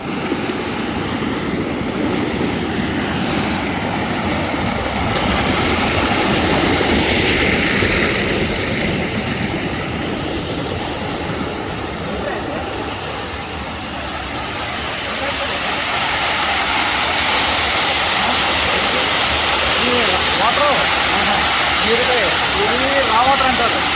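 The Krishna river rushes in a loud, steady roar of broadband water noise, with a slight dip partway through, while people talk over it.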